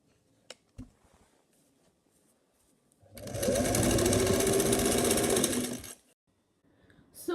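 A sewing machine stitches dress fabric for a long gown, running in one steady loud burst of about three seconds after quiet handling noises, then stopping.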